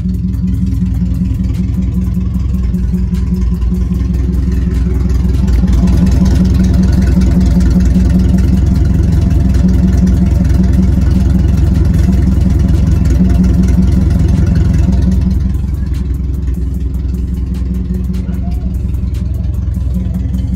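A Tamiya owner-type jeep engine with new headers and exhaust idles loudly and close for about twenty seconds, with a deep, rumbling exhaust that swells slightly in the middle before settling back.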